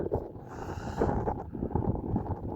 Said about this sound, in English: A little bit of a wind about now